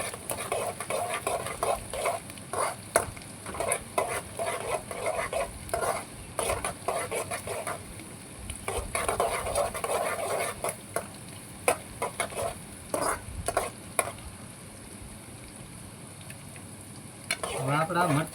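Green chillies sizzling in hot oil in a pan while being stirred, a steady close frying hiss with scattered scraping clicks of a spoon against the pan.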